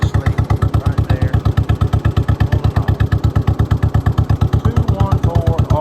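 A 1958 John Deere 420 tractor engine runs steadily up close, its loud, even thumping pulses repeating rapidly throughout with a faint mechanical clatter on top.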